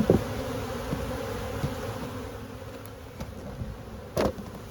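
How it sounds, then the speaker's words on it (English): Honey bees hum steadily from an open hive, a close, continuous buzz with a few faint knocks and taps from handling the hive. "Bees right up to the top of the screen."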